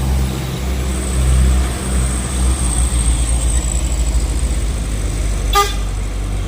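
A heavy vehicle rumbles past with a low engine drone, followed near the end by one short, sharp horn toot.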